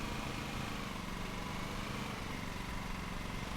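A steady, continuous lawn mower engine drone from the video game Lawn Mowing Simulator runs at an even pitch throughout, close and unbroken, with no voices.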